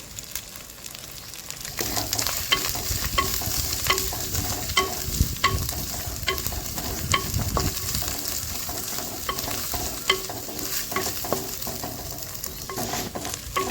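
Ginger, garlic and turmeric frying in a pan for a Godavari-style crab curry, with close sizzling under repeated scraping stirs and small taps, steady and fairly loud with no voices.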